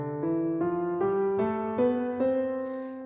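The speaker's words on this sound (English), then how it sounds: "you would want to play scales with both hands together like this" Both hands play a piano scale together in parallel octaves, about seven even notes stepping upward, each struck cleanly and ringing, with no talking.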